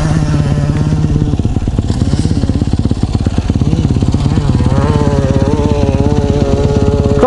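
A Yamaha motorcycle engine idles and revs close by, a loud, throbbing mechanical drone with pitch rising and falling, no talking over it.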